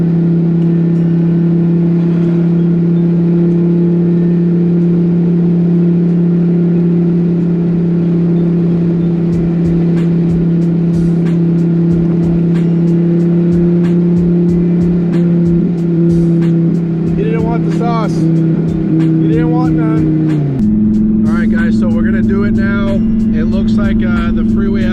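A Dodge Viper running nitrous and no rear wing accelerates hard on an open freeway in Mexico City, a loud steady engine drone heard from inside that climbs in pitch, then drops as the gear shifts near the end.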